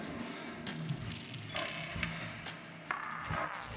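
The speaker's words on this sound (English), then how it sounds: "Crystallizer again, this kind of granular pitch shifting reverse effect based on the Eventide" A Crystallizer granular pitch-shifting reverse effect, modeled on the Eventide H3000 Ultra Harmonizer, turns a track into a shimmering, smeared texture with scattered percussive hits over a few seconds, and no one speaks.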